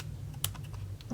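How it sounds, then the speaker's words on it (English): Scissors trimming fuzz from a craft ribbon give a single quick, close snip against a quiet room hum. "some of this fuzz from this ribbon, I'm just going to trim"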